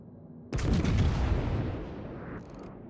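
A single loud naval artillery salvo from the battleship New Mexico in World of Warships booms out suddenly, then rumbles and fades over a couple of seconds.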